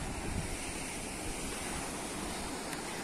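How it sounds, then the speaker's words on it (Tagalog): Strong sea waves surge and wash continuously onto Kalamaki Beach on Zakynthos, a steady broad roar of surf with wind noise buffeting the microphone, no voices. "Malakas lang yung alon."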